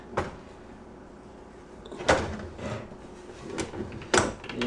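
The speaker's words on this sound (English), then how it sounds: "I'm going to try to get this drawer out of there and look and see what we got going on in here." A drawer that has come off its rails being worked loose: a few sharp knocks and scrapes spaced out over several seconds, close by and fairly quiet, with no talk.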